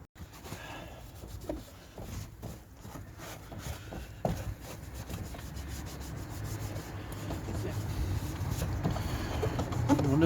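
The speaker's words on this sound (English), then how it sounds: "I'm going to just give this a bit of a wet wipe" A car part is wiped down with a wet wipe during underbody work, giving soft irregular rubbing and scuffing strokes, close and fairly quiet, growing slightly denser toward the end.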